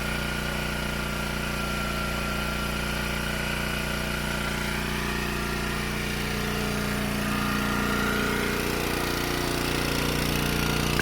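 A Wen GN400i inverter generator runs steadily under load about 25 feet away outdoors, a continuous even engine drone with a constant hum that holds at the same loudness throughout, no voices.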